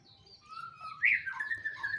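A white-rumped shama (murai batu) sings alone in clear, close whistled phrases, rising into a brighter, louder warbling run midway through and continuing without pause.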